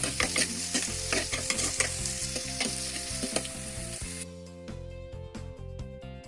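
Shallots fry in coconut oil in a clay pot with a continuous close sizzle and repeated stirring scrapes, steady throughout.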